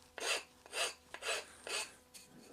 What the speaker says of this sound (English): is just file down any of the rough bumps I've got here